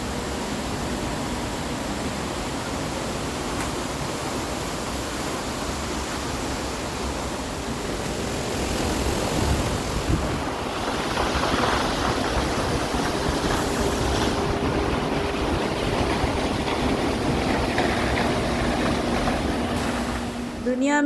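A sacred mountain waterfall pours in a steady, broadband rush of falling water that swells slightly louder partway through, with no one speaking.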